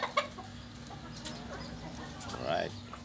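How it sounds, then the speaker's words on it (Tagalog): Hen clucking in a rural Philippine backyard among a flock of chickens, a few short clucks near the start and a louder rising call near the end over steady background noise and a low hum. "Ito po yung inahin."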